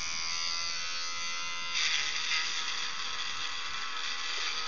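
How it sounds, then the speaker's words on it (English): A Protocol electric shaver runs continuously with a steady high buzz that grows briefly louder partway through, heard close and alone. "let's see if this shaver works"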